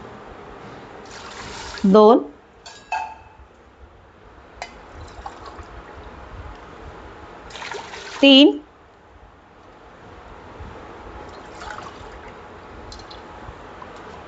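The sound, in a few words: water poured glass by glass into a pot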